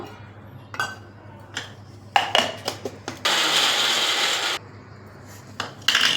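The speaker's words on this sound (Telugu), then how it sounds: "ఇది కొబ్బరి అండి, కొబ్బరి కూడా మిక్సీ పట్టుకోవాలి" Grated coconut and cardamom pods go into a mixie jar, first with clinks and rattles of handling, then a short loud burst of the grinder running for about a second before stopping, followed by more clatter.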